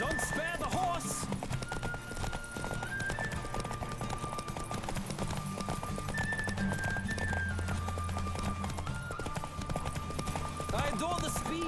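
A horse gallops at speed in a race in The Witcher 3, its quick clip-clop hoofbeats continuous and close, mixed with a game score and occasional spoken lines.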